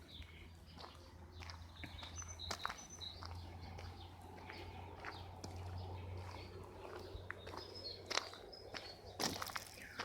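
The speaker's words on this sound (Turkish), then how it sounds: "Kuşlar bayılıyor. Zaten seslerden de belli oluyor." Birds chirp and call intermittently from a huge mulberry tree outdoors on a fine day, small bright tweets scattered over a steady low hum and rustling, with occasional footsteps nearby.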